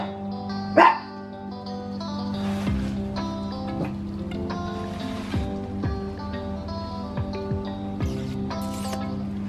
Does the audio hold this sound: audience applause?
no